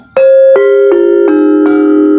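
Five metallic strikes on a demung gamelan metallophone in quick succession, undamped, each note left to ring on and blend into the next, creating a lingering, humming wash.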